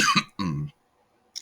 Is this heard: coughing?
yes